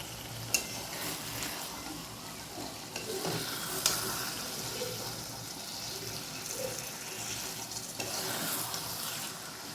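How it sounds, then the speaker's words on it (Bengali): Chicken sizzles and is stirred in a wok, a steady loud frying hiss across the whole stretch with occasional sharp clinks of a utensil against the pan. "তো এবার চিকেনটা কষাবো।"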